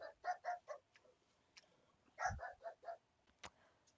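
A pet dog barks indoors in several short bursts, a few sharp yaps spread across the moment, fairly near with quiet pauses between them.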